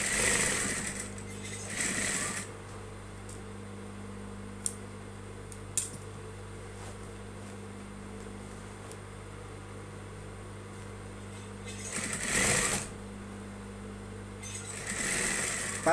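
Sewing machine stitching a trouser seam, running as a steady continuous hum with bursts of faster whirring near the start, middle and end, plus a couple of sharp clicks.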